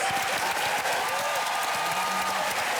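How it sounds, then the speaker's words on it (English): A comedy-show audience at an Australia Day stand-up showcase claps for the night's speakers, a broad, continuous wash of applause with faint crowd noise mixed in. "can we get a big round of applause for all of the speakers we've heard from tonight?"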